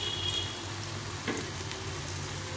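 Gourd leaf fritters frying gently in oil over lowered heat, a soft even sizzle with one brief stir partway through and a low background hum.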